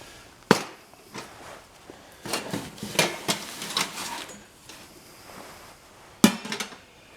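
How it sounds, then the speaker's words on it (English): A cooking pot being scrubbed at the bottom in a field setting, producing sharp metallic knocks and scraping clatters in irregular bursts, close and moderately loud, with no talking. "And remember, scrub down in the bottom of the pot."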